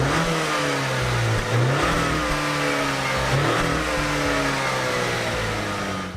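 A 2020 Acura RDX A-Spec in Sport Plus mode, its turbocharged engine and exhaust revving and pulling through rising, shifting tones heard from inside the cabin, steady and fairly loud with no talking.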